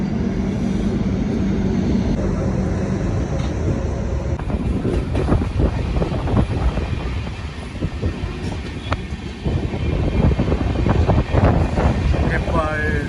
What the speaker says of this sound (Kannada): ಹೋಗ್ತಾ ಇದೆ ನೋಡಿ ಟ್ರೈನು